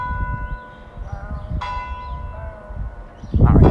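A church bell rings out on a street in Portugal, with several clear tolls whose long tones hang and overlap above rumbling ambient noise, then a louder burst of nearby commotion.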